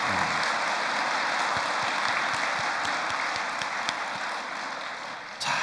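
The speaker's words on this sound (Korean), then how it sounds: "감사의 박수 올려주시기 바랍니다" Sustained audience applause fills a worship hall during a Family Federation church service, a dense, steady wash of many hands clapping that holds at an even level throughout before tapering slightly at the end.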